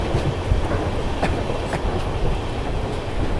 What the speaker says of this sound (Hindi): overtaking Kolkata Rajdhani express, overtaking Kolkata Rajdhani express